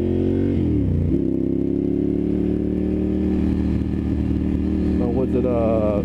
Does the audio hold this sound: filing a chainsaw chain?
no